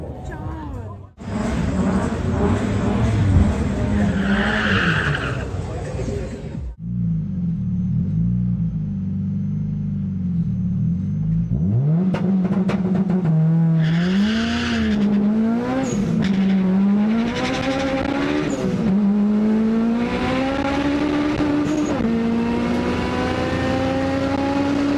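A 600BHP B18-powered Honda Civic launches down a drag strip, engine roaring loud and close, with a brief pause and then repeated rising revs through the gears, tire noise mixed in.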